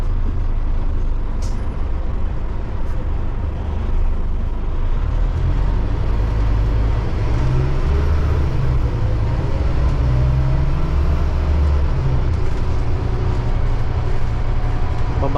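A city bus rolls along a road in Manurewa, Auckland, heard from inside as a steady loud engine and road rumble with a brief high air-brake hiss near the start.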